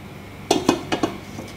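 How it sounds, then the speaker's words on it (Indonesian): A metal pot used as a lid is set over dough, giving a few sharp clanking knocks with a short ring, close and clear, with no talk. "Ini nggak jadi, tutup aja pakai panci."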